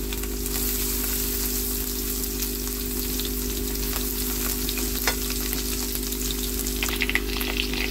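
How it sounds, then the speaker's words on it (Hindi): Garlic ginger paste sautéing in a pan for a chicken kaleji and pota dish, a steady close sizzle and frying hiss running throughout with faint scraping of stirring. "इसमें डाल देंगे लहसुन अदरक का पेस्ट।"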